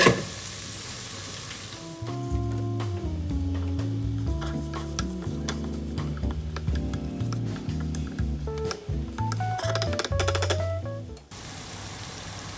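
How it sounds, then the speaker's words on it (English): Butter sizzles in a pan for Japanese curry, a continuous hiss that sits under a melodic background tune and ends abruptly. "Then you want to add some butter."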